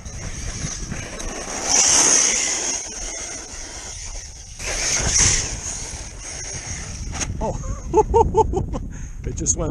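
An ARRMA Talion DR 6s RC desert racer driven at full throttle on sand, its electric motor rising in two sharp whining surges a few seconds apart, mixed with excited talk throughout.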